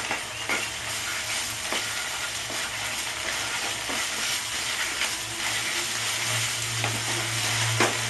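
Omelette pieces sizzle steadily in oil in a pan, a continuous dense frying hiss with occasional sharper crackles and the odd scrape of stirring, close and unbroken.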